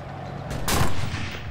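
A single heavy cannon blast in Enlisted's Battle of Berlin, a loud booming report that swells and rolls away within a second, standing alone without talk.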